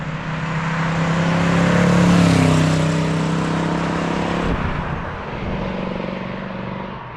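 A 1967 Pontiac Firebird with a small block engine and four-speed cruises at 50, a steady, loud engine drone with wind and road roar that eases slightly partway through.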